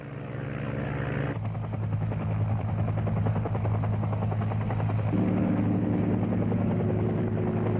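A UH-1 Huey helicopter in flight during a 1970 Air Force tactical operation, its loud, steady rotor thump and turbine whine holding close and constant throughout, with a brief shift in tone partway through.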